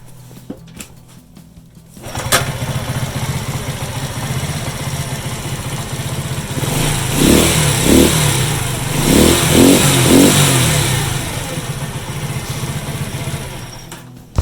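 A small moped engine cranks and starts after a short pause, then idles with a buzzing putter and revs up in several bursts, loud and close in a small room.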